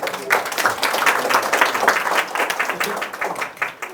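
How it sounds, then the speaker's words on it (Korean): A crowd claps steadily at an educational lecture, a dense patter of many hands at moderate loudness that tapers slightly toward the end. "박수 좀 쳐주십시오"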